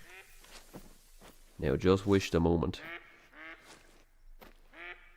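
Ducks in the hunting game theHunter Call of the Wild give a loud burst of rapid, nasal quacks in the middle, with someone talking quietly before and after.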